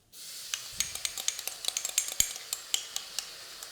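Prawn sauce with sugar and ketchup boils vigorously in a wok over a gas flame, a steady sizzling hiss punctuated by rapid metallic clinks of a utensil stirring against the pan, close and moderately loud.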